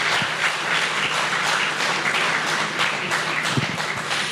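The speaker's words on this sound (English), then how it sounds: "deserves a round of applause" A sustained wash of audience applause fills the hall at the Times Now Summit 2020, steady and dense throughout with no clear gaps.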